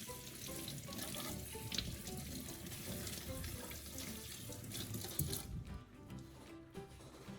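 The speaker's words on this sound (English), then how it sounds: "Then wash them clean under running water and let them drain." Carrots are washed under a running kitchen tap, water splashing steadily into the sink with a bright hissing flow, close and continuous before easing near the end.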